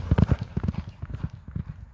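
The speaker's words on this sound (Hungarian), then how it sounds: "Szép, tetszik a ló." A horse walks with a steady, repeating clip-clop of hooves, close and fairly loud, with faint voices in the background.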